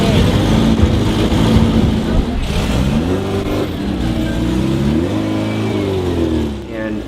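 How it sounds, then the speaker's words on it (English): A race car at the La Carrera Panamericana road race starts up and revs close by. The loud, steady engine drone swells in repeated rising pitch sweeps as the throttle opens. "Please start your engine."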